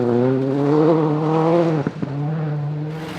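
Ford Focus World Rally car on a Scottish rally stage, engine droning steadily at high revs with a brief dip as it shifts gear, then holding strong again, close and loud.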